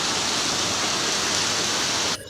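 Steady rain falling in Korat, a dense, even hiss that holds at a constant level before cutting off abruptly near the end.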